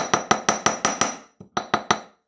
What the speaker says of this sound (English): So I'm hammering all along